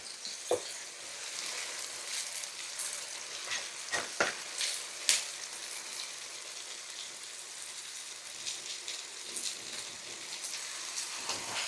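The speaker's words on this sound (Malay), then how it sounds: "Masukkan pes halia bawang putih. biar dia masak" Ginger garlic paste frying in a pot for a festive mutton curry, a soft steady sizzle with occasional sharper pops and spatula knocks, fairly quiet and without speech.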